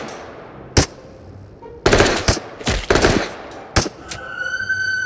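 Enemy gunshots in the VR shooter Into the Radius: several sharp, loud cracks and short bursts spaced irregularly across quiet ambience, with a faint tone rising at the end and no talking.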